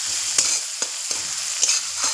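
Chopped onion fries in oil with cumin, giving a loud, close, continuous sizzle with a few sharp stirring clicks.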